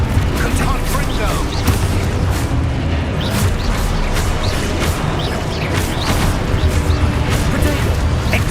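Confringo fire spell explosions in the Hogwarts video game, dense continuous booming blasts and crackling impacts, loud and close, heard under a person's talk.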